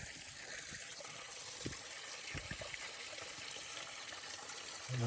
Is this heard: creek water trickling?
yes